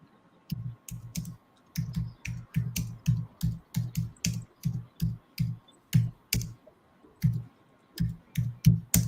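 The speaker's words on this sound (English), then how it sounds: "Now you got Brian typing, banging on the ivories" Rapid bursts of typing on a computer keyboard, close and clear, with short pauses between clusters of clicking keystrokes and no talking.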